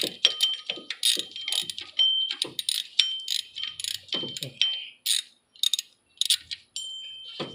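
A ratcheting wrench clicks in quick bursts while unscrewing screws on a 2003–2006 Honda Accord belt tensioner, close sharp metallic ticks in short runs separated by pauses.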